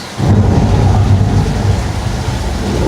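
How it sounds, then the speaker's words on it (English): A thunder effect triggered by a button on a Universal Studios tour backlot set booms in suddenly and loud, then rolls on as a dense, sustained low rumble mixed with rain-like hiss. "That was the thunder button, apparently."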